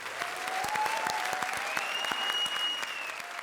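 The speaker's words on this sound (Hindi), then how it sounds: "जोरदार तालियां हो जाएं।" A studio audience on a comedy TV show gives loud, sustained applause, dense rapid clapping from many hands at a steady level, with a sliding musical tone running through it.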